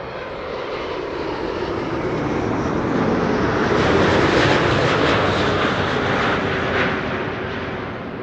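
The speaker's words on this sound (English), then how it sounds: "This is KLM Flight 696 arriving from Toronto." A KLM Boeing 777-200 airliner arriving at Amsterdam Schiphol Airport from Toronto, a loud sustained jet engine roar swelling and easing slightly as it passes, with no voices.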